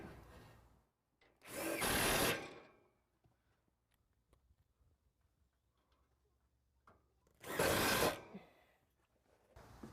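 Two separate bursts of a power drill driving screws to fix an underdecking carrier to a wooden deck joist, each lasting about a second, loud and close with quiet pauses between.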